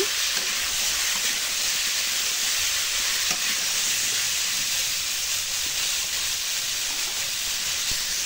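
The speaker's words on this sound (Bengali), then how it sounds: "এখন ফুলকপি আলুতে দিয়ে দিব, ফ্রাই করে নিব অল্প।" Cauliflower and potatoes frying in a pan for a vegetarian Bengali curry, a loud, dense, unbroken hiss of hot oil with faint stirring underneath and no talk.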